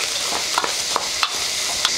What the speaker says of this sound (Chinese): 肉末炒干炒香过后，下剁好的泡椒，